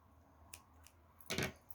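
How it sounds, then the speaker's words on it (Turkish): Scissors snip through crochet yarn once, a short close crisp cut after a couple of faint clicks, with no talking. "İpimi kesiyorum."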